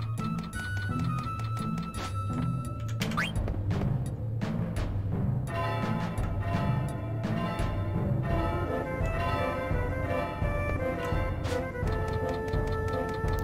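Bell ringing in the Final Fantasy IX video game, metallic chimes and tolls over a steady looping rhythmic music track with a ticking, clock-like pulse, loud and continuous with no voices.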